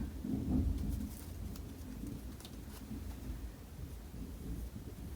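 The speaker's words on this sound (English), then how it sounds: "Oh, we're having a bit of thunder today. Maybe you can hear it on the video." Low, distant rumbling of thunder rolls under a steady patter of rain, with no voices.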